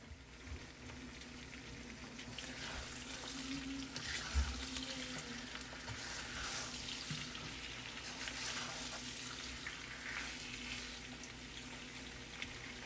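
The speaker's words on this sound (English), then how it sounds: "Fry the onions for about 4 to 5 minutes until they just change their color slightly" Two large roughly chopped onions fry in oil in a pot with cloves and cardamoms for chicken pulao, giving a soft, steady sizzle that holds level throughout, close and moderately quiet.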